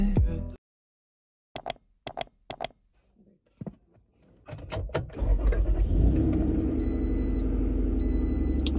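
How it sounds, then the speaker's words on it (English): A car in Lagos is started and left idling to warm up: a few sharp clicks and knocks, then the engine catches and settles into a steady, close, low rumble that runs to the end, with no talking. "I'm just warming the car for like 5 minutes."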